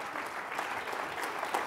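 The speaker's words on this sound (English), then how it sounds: "All right, round of applause." Audience applause at a talk, a steady even patter of clapping from a moderate-sized crowd lasting under two seconds, fairly quiet with no voices over it.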